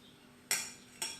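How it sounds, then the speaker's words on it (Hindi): A spoon stirring sugar into syrup in a pan for gulab jamun makes two quick, close metallic scrapes about half a second apart against a quiet background. "चीनी डालने के बाद मैं चम्मच चलाती रहूंगी।"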